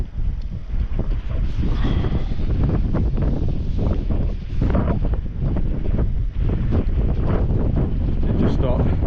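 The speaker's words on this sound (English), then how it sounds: "that wind is evil today." Strong gusting wind roars steadily across an open snowstorm, buffeting the microphone in loud, continuous rushes with brief lulls, while a voice speaks faintly underneath.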